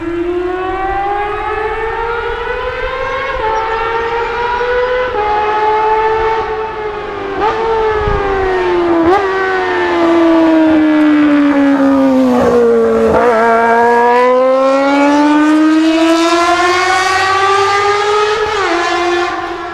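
A Honda CBR250RR's high-strung engine, redlining just shy of 20,000 RPM, screams in a continuous, loud, piercing wail whose pitch climbs, dips and climbs again as the revs rise and fall.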